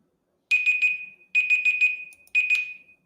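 A quiz countdown timer sounds in three bursts of bright, steady electronic beeping, each about a second long with short gaps between, loud and alone with no talk.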